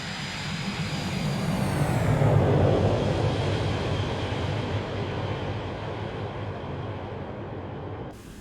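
Boeing 727-200 jet passing by in X-Plane 11, a broad roaring engine noise that swells to a peak around two and a half seconds, then slowly fades with a falling whine before cutting off.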